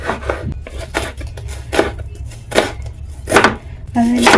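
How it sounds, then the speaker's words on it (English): Knife chopping small onions on a board for butternut squash ugali, a run of separate close cuts spaced about half a second to a second apart, each a short broadband thwack, with a brief voice near the end. "I'm now going to go ahead and chop them"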